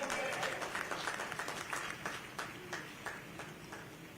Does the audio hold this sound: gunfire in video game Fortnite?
no